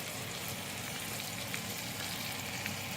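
Steady, dense sizzling of Italian meatballs (polpette) frying in a hot pan, a continuous crackle and hiss with no talking.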